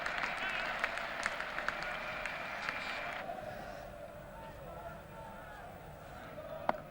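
A cricket crowd at Lord's applauds during the 1981 Benson & Hedges Cup Final between Somerset and Surrey, with steady distant clapping and crowd murmur that fades slightly under a commentator's voice.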